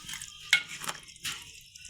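Fried pakoras dropped and stirred into a pot of simmering kadhi, giving a few soft splashes and scraping stirs with light sizzling, close and fairly quiet.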